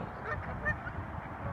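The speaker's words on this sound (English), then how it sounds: "There is a gentleman coming to feed the ducks. Here they all come." Ducks and geese gather by a lakeside to be fed, with a scattered, moderately loud chorus of honks and quacks over a busy outdoor background.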